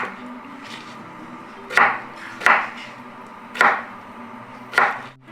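A knife cuts salad ingredients on a cutting board in a home kitchen: four distinct, moderately loud chops, evenly spaced and close by, over a quiet room background.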